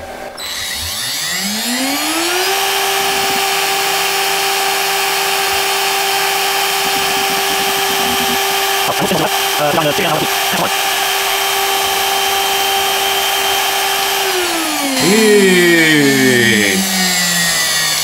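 A CNC spindle cuts a rubber magnet sheet for tweeter use, spinning up into a loud steady high whine with grinding cutting noise, holding level, then winding down near the end, with no talking.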